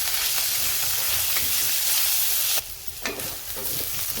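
Green chili, cumin and garlic paste sizzles hard with onion in a hot pan, a dense steady crackling hiss that drops briefly as it is stirred, then resumes, with no talk.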